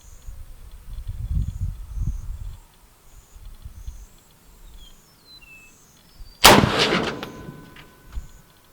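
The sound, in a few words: rifle shot, Federal Match 185 grain ammunition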